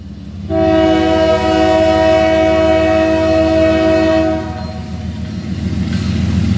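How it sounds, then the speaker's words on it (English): A passing intermodal freight train sounds a fouled, harsh multi-tone horn in one long close blast of about four seconds over rumbling rail noise, which continues after the horn stops. "That's fouled. That's a fouled horn."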